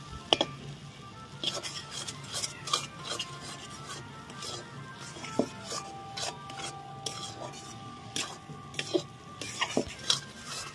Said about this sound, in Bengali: এইভাবে 2 থেকে 3 মিনিট নাড়াচাড়া করে নেবেন